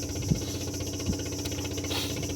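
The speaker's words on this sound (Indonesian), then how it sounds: "itu adalah suara kapal promotor nelayan yang baru pulang dari laut ya" Engine of a fishing motorboat idling at a ferry harbour in Sangatta, Kalimantan, back from sea: a steady, low, rhythmic diesel-like chug with faint knocks, moderately close and alone without talk.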